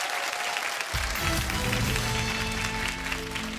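A studio audience applauds two school teams at a quiz show, a steady wash of clapping under a low musical sting that enters after a second.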